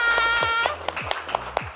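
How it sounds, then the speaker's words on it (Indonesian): Steady, rhythmic clapping from a classroom group after an icebreaker, with evenly spaced sharp claps and a voice briefly audible at the start. "Tepuk tangan untuk kita semua."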